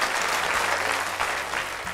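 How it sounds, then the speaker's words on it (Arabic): Steady applause from an audience on an Arabic children's television programme, a dense continuous wash of clapping that holds evenly for the whole moment with no voices. "تصفيق لمليكة"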